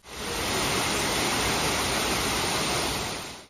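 Tortum Waterfall in Erzurum, Turkey, rushes with a dense, steady roar of falling water that fades in and out, loud and continuous with no voices.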